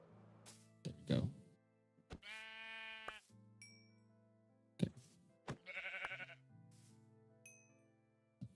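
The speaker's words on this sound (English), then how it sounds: "Okay, so we have enough sheep now." Sheep in a video game bleat several times in short, loud, nasal cries, with thunks and light knocks between them and a brief spoken word from a player.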